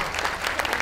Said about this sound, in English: We now have a large round of applause for our best of breed winners leaving the ring, please.